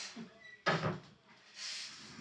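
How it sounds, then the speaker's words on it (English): A door is opened with a sudden broadband clack and rustle, followed by a softer hiss of movement, close and brief with no talk over it. "You keep opening my door."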